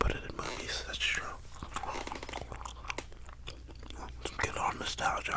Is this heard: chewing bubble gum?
yes